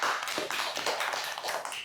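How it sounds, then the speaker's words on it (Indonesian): Applause for the sub-district head at a community gathering on the 2026 economic census: a steady, dense patter of many hands clapping, continuous and fairly close for about two seconds, with no talk over it. "Sekali lagi tepuk tangan untuk Pak Camat"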